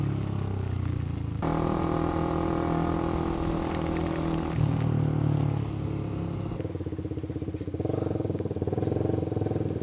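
A Honda CBR 150R K45 motorcycle with an overbored DWC engine runs steadily nearby with a throaty, pulsing drone that shifts pitch slightly partway through.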